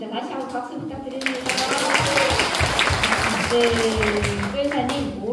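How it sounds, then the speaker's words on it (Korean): Audience applause fills a hall at a Daegu regional community talk event, rising after a quieter first second into steady, broad clapping that continues under a voice for the rest of the stretch. "다시 한번 박수 부탁드립니다"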